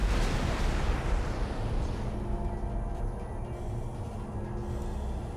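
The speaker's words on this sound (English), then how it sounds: "Explosion imminent. Now he's dead." A spaceship blows up in the space game X4 Foundations, a loud rumbling blast that bursts at the start and then trails off into a long, deep decaying roar.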